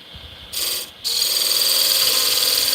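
A skew chisel shaves spalted hickory turning on a wood lathe, a steady hissing, scraping cut that starts briefly, pauses, then continues loud and unbroken over the motor's low hum.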